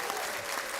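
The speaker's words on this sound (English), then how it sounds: "Let's give a round of applause to Martin Espino." An audience claps steadily in a large hall, a brief, dense burst of applause.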